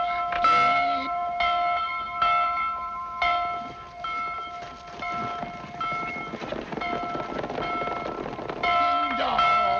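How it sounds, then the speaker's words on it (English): A church-style bell rings repeatedly in a steady, resonant rhythm in a 1942 Western film, its tolls loud and close with lingering tones, while rumbling background noise and a brief voice pass underneath. "Ring the bell now."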